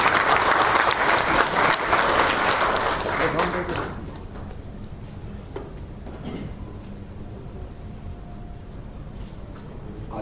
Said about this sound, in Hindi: मुझे लगता है तालियों से हमें स्वागत करना